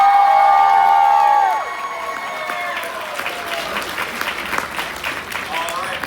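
A convention crowd cheers and whoops for a guest at an anime convention, a loud woo that fades into sustained applause and scattered shouts, with a voice over it.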